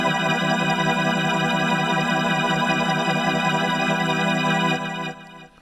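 A Bertha 2 organ synth playing a held chord with vibrato added, the harmonics wavering in a steady pulse, loud and sustained before fading quickly at the end, alone with no voices.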